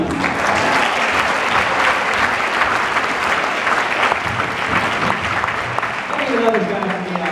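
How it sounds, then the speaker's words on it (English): A concert band audience applauds loudly and continuously, the clapping dense and close, with a voice emerging near the end. "another round of applause, our street beat team."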